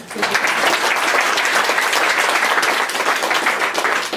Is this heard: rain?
no